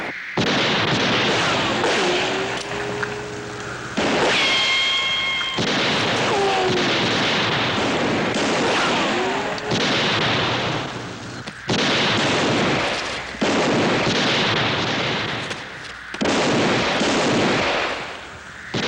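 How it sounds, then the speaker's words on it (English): Gunfire in a shootout from the Western TV series Bonanza: loud, heavy shots and volleys in repeated bursts with brief gaps, some ricochet-like whines among them. "Keep firing, boys."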